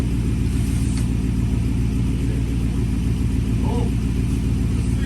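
A truck engine, jump-started because its jump pack is dead, turns over and runs in a loud, steady low rumble close by, with brief voices over it.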